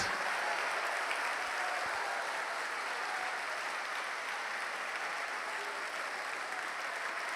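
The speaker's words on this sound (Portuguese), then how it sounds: "Aplauda, aplauda, aplauda" A church congregation applauds steadily and loudly throughout, a dense wash of many hands clapping at once with no break in volume.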